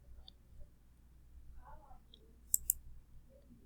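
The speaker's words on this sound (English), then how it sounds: "You will want to click Tier 2 Plan." Two quick computer mouse clicks land close together near the end, crisp and near, over a low background hum with faint murmur.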